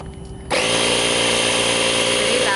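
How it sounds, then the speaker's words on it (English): A portable tire inflator compressor from a Chevy Volt's tire repair kit, powered from the cigarette lighter, switches on after a brief quiet moment and then runs as a loud, steady, close-up mechanical drone. "Pretty loud, it's a compressor."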